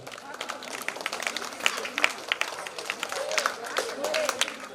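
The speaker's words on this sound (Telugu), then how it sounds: "వాళ్ళకి దీవెనలతో చప్పట్లు" Audience at a school anniversary celebration applauds student speakers with scattered claps and sharp individual hand strikes over a murmuring crowd and talking voices.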